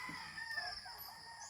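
A rooster crows on a rural provincial farm, a single drawn-out call sounding fairly near against quiet surroundings, with no talking.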